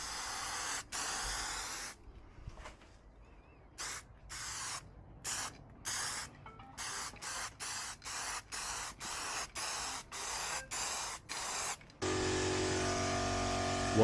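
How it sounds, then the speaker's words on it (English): White Spectre primer is sprayed from an aerosol can onto a dented Audi Q3 door, a string of short sharp hissing bursts with gaps between them, closing on one longer steady spray. "I spray on some white Spectre primer, just to give the white base coat a helping hand with coverage."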